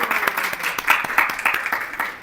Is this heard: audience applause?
yes